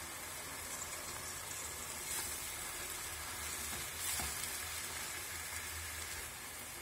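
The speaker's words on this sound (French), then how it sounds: "je rajoute les poivrons. Et je laisse revenir aussi avec les oignons" Bell peppers, onions and meat fry together in a pan as a filling for stuffed buns, making a faint but continuous sizzle with occasional slightly louder crackles.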